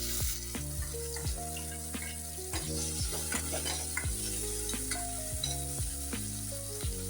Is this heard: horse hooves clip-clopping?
no